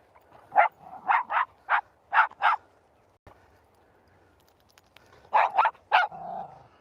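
Border terriers on an outdoor walk in Scotland bark in two sharp bursts, five quick barks, then a pause and three more, close to the microphone, ending with a short whine.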